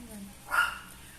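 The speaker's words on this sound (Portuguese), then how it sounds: "Vicente, desculpa que o cachorro tá latindo" A dog barks once in the background, a brief yelp at moderate distance, with someone talking before it.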